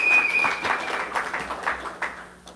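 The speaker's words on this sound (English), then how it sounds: "let's give them a round of applause" Audience applause at a virtual national report event, a steady wash of clapping from many hands that holds for a couple of seconds and then thins out near the end.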